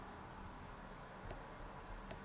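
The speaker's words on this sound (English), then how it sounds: "you just press search, and it'll beep and vibrate" A Crane Bluetooth smartwatch from Aldi, set off by its find-watch search function, gives a quick run of three short, high-pitched electronic beeps, faint and close by in an otherwise quiet room.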